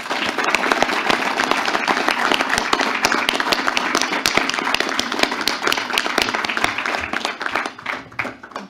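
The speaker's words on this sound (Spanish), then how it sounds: "Les pido un aplauso a todas y todos ustedes que son los que luchan por nuestro país." Audience applause at a Senate forum, dense steady clapping from a crowd that continues for several seconds before thinning out toward the end.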